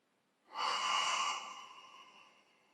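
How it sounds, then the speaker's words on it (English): A slow, audible breath taken during a gentle neck stretch, a breathy exhale that swells in, holds, then fades over a couple of seconds, close and fairly soft with no talking. "Breathe through it."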